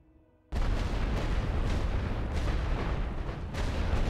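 Mortar and artillery fire booms in the World War I strategy game The Great War: Western Front. A loud, dense barrage erupts suddenly after a brief quiet start and keeps rumbling, with repeated heavy blasts.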